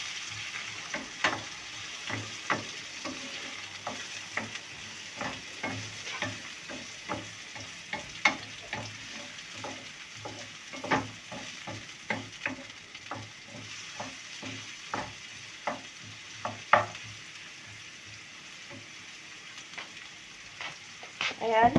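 White onion frying in a pan gives a steady close sizzle, with frequent crackling pops and the scrape of stirring throughout and no talking.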